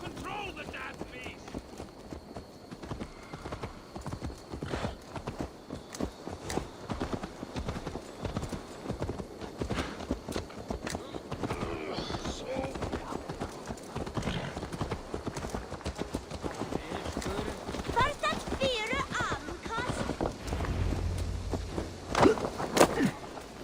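Horse hooves clip-clopping in Assassin's Creed Valhalla, a steady patter of hoofbeats running throughout under game ambience and intermittent voices.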